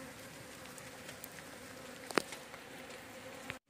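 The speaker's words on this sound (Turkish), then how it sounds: "Ama maşallah çok büyük bu oğul ya." A large swarm of honeybees hums in a steady, dense drone, fairly faint and continuous, with a couple of brief knocks near the end and no talking.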